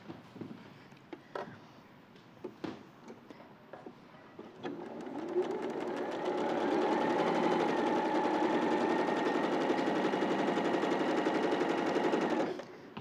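A domestic sewing machine stitches patchwork pieces from the back. A few handling clicks and taps lead into about seven seconds of steady, close, continuous motor hum and rapid needle chatter, which stops abruptly.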